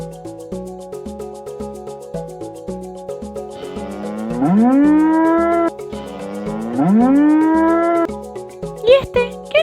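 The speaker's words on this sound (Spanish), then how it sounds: "Claro, la vaca." A cow moos loudly twice in long, rising, drawn-out calls over a rhythmic background beat, with a short sharp sound near the end.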